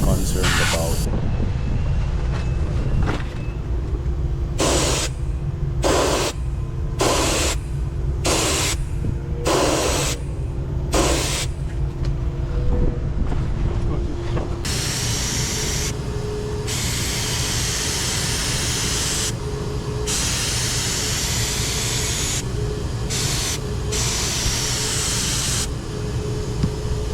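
Fuji spray gun applying Awlcraft 2000 paint during spot painting, a steady loud hiss of spraying that cuts in and out in short bursts before running continuously in the second half.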